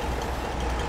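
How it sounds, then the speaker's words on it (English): Reversing beeps from a semi truck backing up in a logging multiplayer driving game, a steady close engine drone under the repeated warning tone, with no talk. "As I back up into the brand new semi truck."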